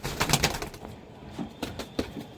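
Desi high flyer pigeons at a pigeon sale coo in soft, repeated throaty bursts, several close calls early on, then fainter spaced coos against a low background hum.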